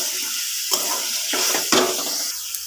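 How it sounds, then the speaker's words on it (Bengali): Potatoes sauté in a pan for a crab curry with a steady close sizzle, broken by several bursts of stirring and scraping over about three seconds. "আলুগুলোকে আগে সবার আগে কষিয়ে নেবো ভালো করে"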